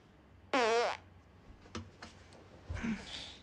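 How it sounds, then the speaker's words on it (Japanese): A single loud, squeaky fart with a rapid rippling buzz, followed by a few faint taps and a softer, shorter rasp. "やべ、またおならが出る。"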